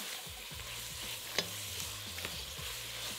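Champignon mushrooms frying with onion, a large spoon of butter, oil, salt and black pepper in a pan, a continuous close sizzle broken by repeated stirring scrapes and a sharp clink.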